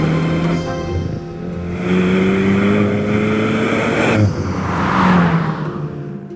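An Alpine A110 sports car drives past with a steady engine note that rises and shifts pitch, loud and close, with a brief surge near the end.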